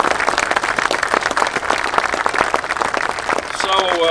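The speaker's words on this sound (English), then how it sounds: "let's give them a big round of applause for their vision for the Commonwealth of Kentucky" Crowd applauding the founders of Whiskey House Distillery at a groundbreaking and ribbon-cutting ceremony in Kentucky, steady dense clapping throughout, with a voice cutting in near the end.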